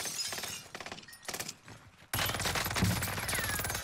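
A bullet strikes a roof during a Call of Duty: Vanguard Warzone match on Rebirth Island, heard as a sharp cracking impact that kicks off a loud, dense burst of gunfire and debris noise, preceded by scattered clatter.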